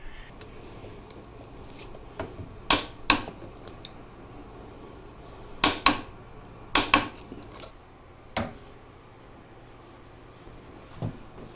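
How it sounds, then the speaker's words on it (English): Metal bolt sliding through a Suzuki DR650 motorcycle swing arm, then tightened with a torque wrench: a handful of sharp metallic clicks and ticks in scattered pairs, close and fairly quiet, with no talking. "I'm going to slide the actual bolt through here, and we'll torque this one down as well"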